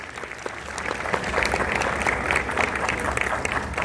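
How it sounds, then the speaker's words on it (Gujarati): A seated audience at a homeopathy summit welcome ceremony in Vadodara gives steady, full applause. The clapping builds slightly and holds at an even level throughout. "પ્રત્યેક સ્વાગત સન્માન જોરદાર તાળીઓથી વધાવતા રહીશું."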